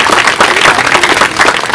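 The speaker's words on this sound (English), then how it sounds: "a round of applause for AOSIS" Brief applause from the audience at a Fossil of the Day ceremony during the COP20 climate talks, a dense, steady wash of many hands clapping at close range, filling the whole moment with no break.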